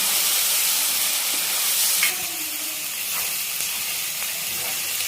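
Onions fry in a pan with a bright, steady sizzling hiss, broken by a soft scrape of stirring partway through before the hiss continues at a slightly lower level.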